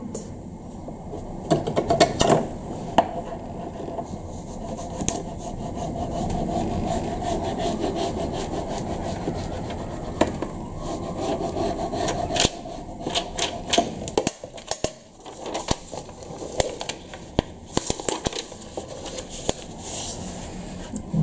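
Paper being folded and creased by hand for a scrapbook album, with close rustling and scraping strokes that turn into sharper crackles and taps toward the end.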